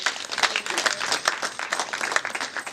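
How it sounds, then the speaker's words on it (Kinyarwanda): A crowd at a Rwandan wedding ceremony claps in dense, uneven bursts, with fairly close, sustained applause lasting throughout and a few voices faintly mixed in. "Amashyi menshi."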